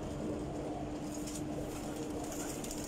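Soft repeated cooing from Faisalabadi John Sire pigeons kept in a loft, low murmuring calls continuing steadily at close range against a light hum.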